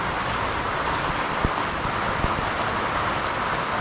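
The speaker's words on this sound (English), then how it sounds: "It looks like the rain has set in" Steady rain hisses evenly, with a few louder drops tapping close by now and then.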